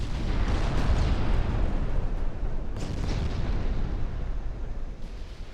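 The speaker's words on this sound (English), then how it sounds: "Torpedo hits on a destroyer." Torpedoes strike a destroyer during a naval battle in Ultimate Admiral Dreadnoughts, heavy deep rumbling explosions rolling one into another, loud and booming, with a few sharper bursts and no voices.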